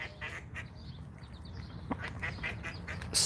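Ducks quacking in scattered calls over a low background rumble, moderately close, with a louder burst at the end.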